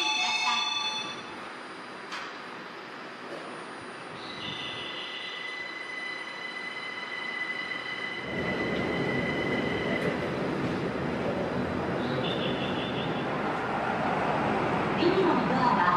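A Linimo maglev train stands at the terminal station on the Aichi line, with a platform chime, steady electric hum and a louder rushing swell as it moves, under recorded station announcements.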